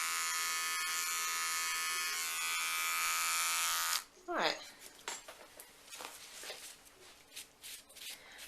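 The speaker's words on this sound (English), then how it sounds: "Just taking some areas a bit shorter because the clipper guards don't get every bit at a number 4." Electric hair clippers buzzing loudly and steadily up close for about four seconds while cutting short hair, then switching off, followed by scraping, rubbing and rustling handling sounds.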